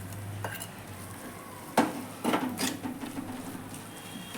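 Lilva kachori filling of ground green pigeon peas with coriander-chili paste is mixed in a pan, giving soft scraping stirs and a low sizzle, with a few louder spoon strokes partway through.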